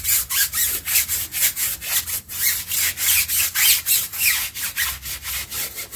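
A brush scrubs a slightly browned car wheel rim with quick, even back-and-forth strokes, about three per second, close up and with no voices.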